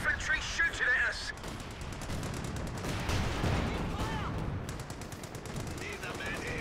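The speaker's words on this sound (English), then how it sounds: "The infantry shooting at us." Infantry gunfire in the World War II strategy game Company of Heroes 2 on the La Gleize map, a dense rattle of rifle and machine-gun shots running throughout, mixed with battle noise and voices talking over it.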